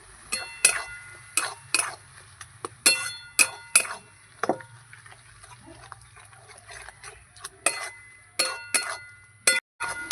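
Dried fish paste with green chilli, ginger and garlic is stirred together with eggplant in a pan, giving irregular metallic clinks and scrapes of a spoon against the pan, close and moderately loud, with no talking.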